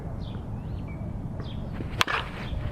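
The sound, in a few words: Headbanger Tantrum slowpitch bat hitting a softball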